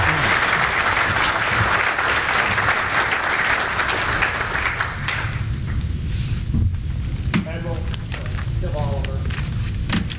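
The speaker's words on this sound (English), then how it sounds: "Thunderous applause." Loud, full applause from a conference audience for about five seconds, then fading into a room noise of shuffling, thumps and a voice starting to speak.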